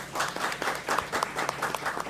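Audience applause at a university panel session on internships and employability, a steady wash of many hands clapping at moderate volume for about two seconds, with a faint voice underneath.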